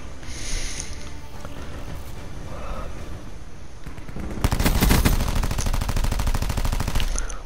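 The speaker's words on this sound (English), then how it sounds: "That is awful shooting." Gunfire in Call of Duty Black Ops 4 heist mode, a steady rattle of rapid automatic shots that swells louder and denser midway, continuing close and unbroken with no talk.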